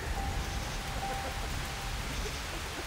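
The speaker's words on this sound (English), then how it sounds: "Apparently it's gonna just rain all night" Rain falls steadily through the night outdoors, a dense, even hiss of drops on surfaces that holds at a constant moderate level with no voices.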